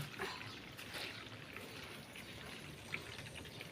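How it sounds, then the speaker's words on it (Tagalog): Water running steadily into washed plastic containers as they are refilled at home, a continuous soft trickling and splashing wash at low level with no talk. "Nag-iipon ako ng tubig."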